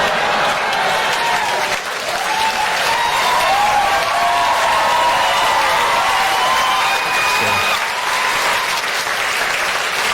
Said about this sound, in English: The BNP get a round of applause.